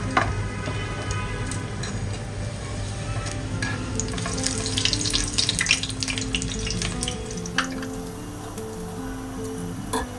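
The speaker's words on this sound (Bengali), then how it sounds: "আমার ভাজা প্রায় শেষ।" Mustard flower fritters fry in hot oil, a steady bubbling sizzle with scattered pops and crackles, loud and close throughout with no talking.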